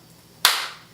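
A single sharp hand clap rings out close by, its crisp attack followed by a short fading room echo in an otherwise quiet space.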